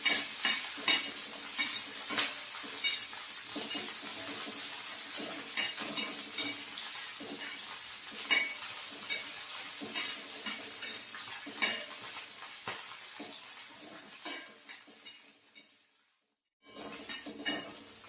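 Green chilies sauté over a low gas flame for spicy chili thecha, a close, crackling sizzle with frequent clinks and scrapes of stirring, fading out briefly near the end before resuming.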